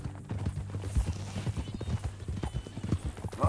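Horse hooves clip-clop in a steady walking rhythm in Red Dead Redemption 2, close and moderately loud, with faint game background underneath.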